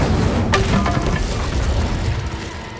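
A fire spell bursts out in the video game Hogwarts Legacy as a loud, dense whooshing blast with a crackling flare early on that holds steady and then eases off, with no voices over it.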